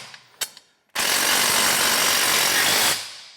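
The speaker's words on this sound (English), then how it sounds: "hold the fastener with a wrench on the outside and tighten it from the inside" A fastener is tightened with a socket driver while held by a wrench, a few sharp knocks followed by a loud continuous two-second burst of close mechanical rattling that cuts off abruptly.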